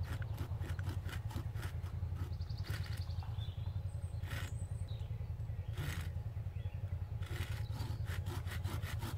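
Rapid back-and-forth strokes of a hand saw cutting a notch in wood while building a frame saw, a steady rasping rhythm with a few short pauses, close and fairly quiet over a low hum.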